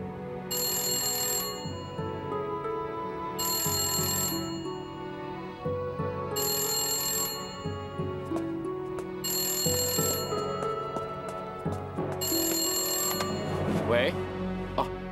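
An old-style telephone bell rings indoors in a Taiwanese TV drama, five evenly spaced bursts of bright ringing with short gaps between, under background music.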